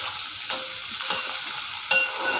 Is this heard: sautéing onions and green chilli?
yes